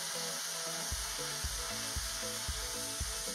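A Parkside plasma cutter slices through 3 mm steel with a loud, constant hissing roar and a steady electrical hum, broken by faint rhythmic knocks underneath, without any voices.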